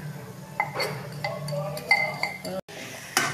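A spoon stirring ginger, garlic and green chili paste into an onion-tomato paste for egg curry, with light clinks against the pan and soft scraping sounds, close by, under steady kitchen background noise.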